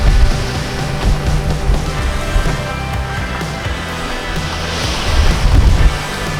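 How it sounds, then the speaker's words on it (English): Ten-foot ocean surf breaks through the rocky boneyards at Jeffreys Bay, a loud, continuous roaring wash mixed with heavy wind buffeting that swells near the start and end. "Ten-foot surf going through boneyards."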